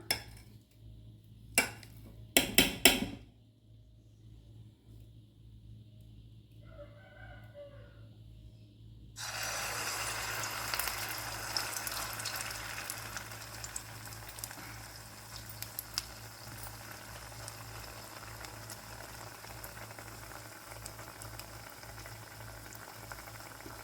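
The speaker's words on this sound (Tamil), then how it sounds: "நான் கடாய் வச்சு பாருங்கள் நல்லெண்ணெய் ஊற்றி வச்சுருக்கேன். இந்த அளவுக்கு ஆயில் சேர்த்திக்கோங்க. இதில் இப்போ நான் மாவை வச்சிடலாம்." Adai batter hits hot sesame oil in a kadai for a Thanjavur-style adai, starting a dense, steady sizzle and crackle that continues to the end, preceded by a few loud clanks of utensils against the pan.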